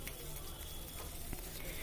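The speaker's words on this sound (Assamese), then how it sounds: "এতিয়া ইয়াৰ লগতে এটা ডাঙৰ পিঁয়াজ কাটি লৈছিলোঁ, সেইখিনিও গল্ডেন ব্ৰাউন হোৱাকৈ আমি ভাজি ল'ম।" Chopped onion frying in a pan toward golden brown for khichdi, a quiet, continuous hiss and crackle with an occasional faint clink, heard close and alone.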